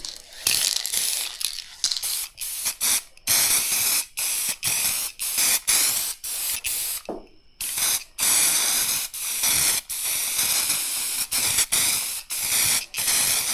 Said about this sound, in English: But it's also how you spray. This is the only problem with using like a paint can.